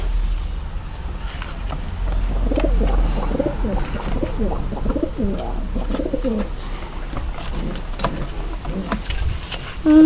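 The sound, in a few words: pigeons cooing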